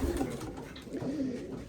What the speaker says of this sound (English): there's only 22 pair of pigeons in this large loft